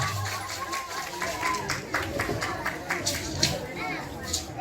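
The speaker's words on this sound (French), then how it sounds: "On va l'applaudir très fort. On l'applaudit très fort." Crowd applause at the inauguration ceremony of a nursery school in Gbagba, Bingerville, with scattered clapping and lively chatter and voices mixed through the whole stretch.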